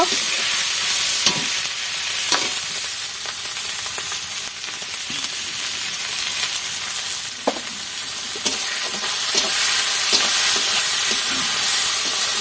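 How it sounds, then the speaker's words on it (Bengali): Tomatoes, ginger and garlic fry in oil for a tangra fish curry, giving a steady, close sizzle broken by occasional scrapes and knocks of a stirring utensil. "আদা রসুন দিলাম, একটু তেল দিলাম, এই টমেটো ঢেলে দিলাম"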